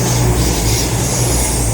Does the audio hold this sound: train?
yes